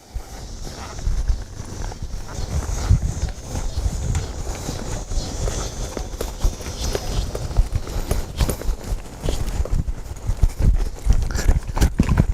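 Cutting horses working cattle thud across soft ground in quick, irregular hoofbeats, with dull stamps and scuffs that shift in pace, moderately close.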